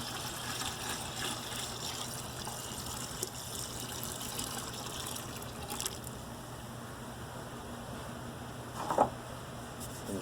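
Cooled sugar water pours into a homemade wine batch as a steady, faint liquid gush, a continuous wash with a brief louder splash near the end and no voices.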